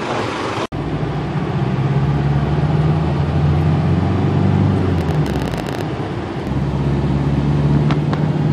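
An Isuzu D-Max pickup truck on a test drive after valve-seat work, a steady close engine and road hum from inside the cab with a sharp click near the start and a brief dip in the drone, no talking.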